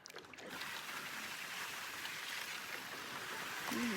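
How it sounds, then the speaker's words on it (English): Steady rushing water from nearby rapids or a waterfall, heard from a canoe in the Zec Kipawa wilderness, a continuous broadband roar that stays loud and constant throughout with no voices. "can hear some rushing water."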